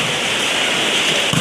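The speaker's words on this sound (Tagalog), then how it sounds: "Ulan na kaya diri." Steady rain pours down on an outdoor barangay volleyball game in Caleriohan, a dense continuous hiss filling the space with no pauses, close and fairly loud throughout.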